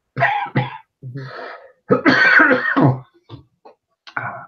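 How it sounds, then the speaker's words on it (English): A person coughs repeatedly in loud, harsh bursts, close up, with short pauses between the fits and a throat clear near the end. "I'm really sorry about my coughing."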